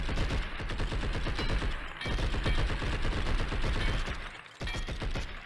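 Rapid automatic gunfire in the video game Blood & Bacon, a dense continuous rattle of shots with a brief break near the end, loud and without speech.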